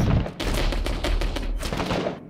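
Rapid gunfire from the war shooter game Six Days in Fallujah, a loud, dense burst of repeated shots running almost continuously, with a few sharper cracks standing out near the end.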